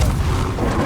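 Confringo blasting spell going off in Hogwarts Legacy, a short loud booming burst that fills the whole moment with a dense rumbling low end.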